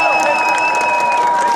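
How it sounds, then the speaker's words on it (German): Steady applause from a crowd at an outdoor Article 13 protest in Cologne, loud and continuous, with a sustained ringing tone running over the clapping. "Einmal Applaus"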